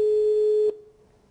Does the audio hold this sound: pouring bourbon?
no